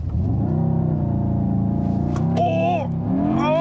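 A 2024 Mercedes-AMG GT 63 S E Performance, an electrified hybrid, launches under launch control with a loud, close, steadily rising engine roar, while excited voices shout over it near the end.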